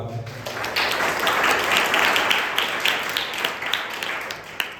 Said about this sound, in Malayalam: വളരെ നല്ലൊരു കയ്യടി കൊടുക്കാം.